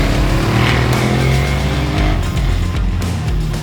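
A Ducati Diavel 1200cc twin-cylinder motorcycle engine running loud and close, a sustained droning roar with shifting pitch as the revs rise and fall.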